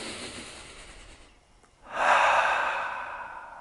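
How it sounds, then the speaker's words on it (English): A single long, audible breath in through the nose then out, close and fairly loud, with a quiet pause before a stronger exhale. No one speaks. "Let's all just take a nice deep breath."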